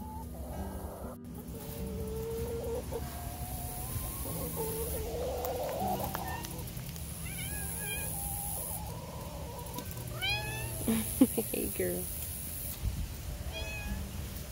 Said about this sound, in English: What's up with this cat